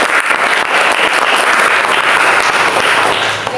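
Sustained applause from a class, dense steady clapping filling the room at a constant loud level with no pauses.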